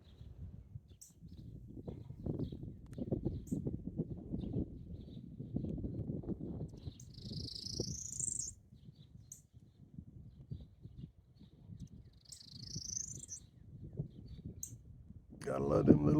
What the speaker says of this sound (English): Gotta love them little birds.